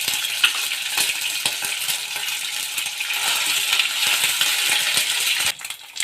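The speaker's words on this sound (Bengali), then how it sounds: "আদাটা ছিটকাচ্ছে তাই ওর মধ্যে একটু নুন দিয়ে দেব।" Ginger paste spatters in hot oil, about two spoonfuls, giving a dense, steady crackle with sharp pops and ticks over six seconds, near and fairly loud, dropping off briefly at the end.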